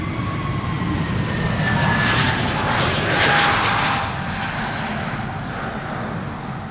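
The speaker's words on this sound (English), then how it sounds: "so too is this A321neo" An Airbus A321neo jet departs Amsterdam Schiphol Airport, its engines producing a loud, sustained roar that swells to a peak and then slowly fades as the aircraft moves away.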